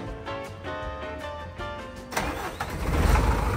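A truck engine cranks with rapid rhythmic whirring, then catches and fires up into a rough, rising idle rumble, heard close.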